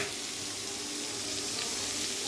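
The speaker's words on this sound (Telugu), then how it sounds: "దోసకాయ ముక్కలు వేయాలండి." Cucumber pieces sizzle steadily in a frying pan already holding curry leaves and green chillies, a constant close hiss of frying for a Telugu cucumber chutney.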